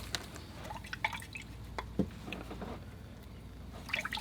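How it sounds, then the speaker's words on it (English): A watercolor paintbrush is rinsed in a jar of water, giving soft, scattered drips and small splashes with short quiet gaps between them. "So rinse off my brush now."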